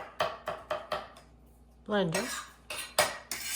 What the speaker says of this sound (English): we're just gonna coarsely chop this